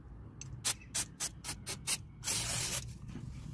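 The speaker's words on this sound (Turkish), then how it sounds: "balata spreyi sıktık" Several short, hissing puffs of brake cleaner spray on a Renault Clio air vent diffuser in quick succession, followed by one longer continuous spray, close and fairly quiet.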